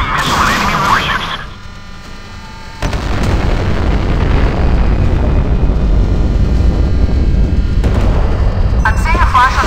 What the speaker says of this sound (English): Firing missile at enemy warships.